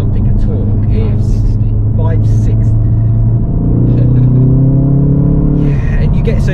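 Ford Focus engine driven hard around 2,500 to 4,000 RPM in third gear, a steady low rumble with rising engine tones that stays loud throughout, with speech underneath.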